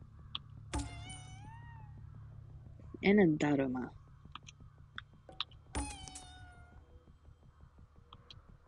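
Cat meowing in the video game Ghostwire: Tokyo, a short cluster of clear, fairly loud meows in the middle, with someone talking over game music around it.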